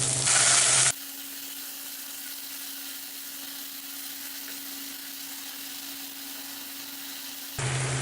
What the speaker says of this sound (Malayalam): ഇതിലേക്ക് നമ്മൾ തയ്യാറാക്കി വെച്ചിരിക്കുന്ന സോസ് ഒഴിച്ചു കൊടുക്കുക